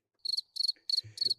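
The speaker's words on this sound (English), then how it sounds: "You hear the crickets." A cricket chirping effect played from a soundboard during a Raiders versus Texans watch party: four close, loud bursts of rapid high trills in an even rhythm, with a brief low voice murmur near the end.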